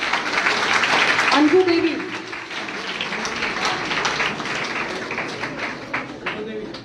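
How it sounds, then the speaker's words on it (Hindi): Audience applause at a girls' encouragement award ceremony in Hanumangarh, a steady crowd clapping throughout, with an announcer's voice speaking a name over it at the start. "कृपया तालियां बजाएं"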